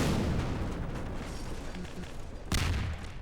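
Nebelwerfer artillery rockets fire in Garry's Mod with the PewPew V2 addon, a dense rumbling barrage with a sharp new blast near the end, loud and close.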